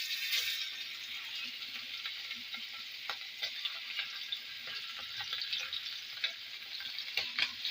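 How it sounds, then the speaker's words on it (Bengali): Fish pieces frying in hot oil in a pan, a steady crackling sizzle with scattered pops and spatters, moderately quiet and close, with no talking. "এই পর্যায়ে আমি মাছের পিসগুলো দিয়ে দেবো এক এক করে।"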